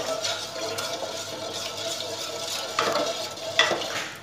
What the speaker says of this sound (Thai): นำตัวน้ำมะพร้าวที่เราผสมกับผงวุ้นไว้นะครับนำไปเคี่ยวกับไฟขั้นตอนนี้ก็ตัวเตือนก็คนตลอดเวลาเลย